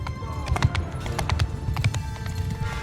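Cavalry horses gallop across a medieval battlefield in Mount & Blade 2 Bannerlord, rapid close hoofbeats clattering in quick rhythm with a brief whinny, loud and alone.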